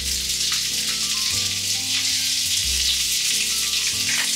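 Asparagus that was not parboiled sears in smoking-hot oil over high heat, giving a loud, steady crackling sizzle with no break.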